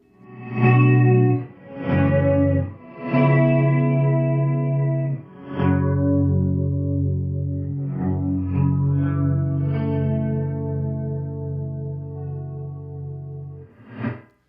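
Ventris Dual Reverb on its Appearer preset gives a fully wet, smooth reverse reverb, with sustained swelling tones that bloom in and fade across several phrases, loud and alone with no voice.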